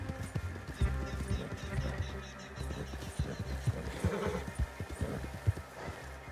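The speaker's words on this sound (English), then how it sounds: "There we go. We finally have a horse." Horse hooves clip-clopping in the video game Red Dead Redemption 2, irregular thudding hoofbeats close by with a neigh, fairly quiet and without talk.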